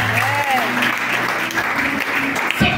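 A church congregation breaks into loud, sustained applause that fills the room, with a voice heard over the clapping.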